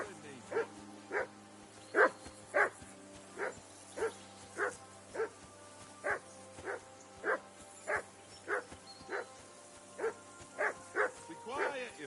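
Repeated dog barks from a medieval village mutt in Kingdom Come Deliverance 2, about twenty sharp evenly spaced woofs over a steady low ambient hum, fairly close and clear with no talk over them.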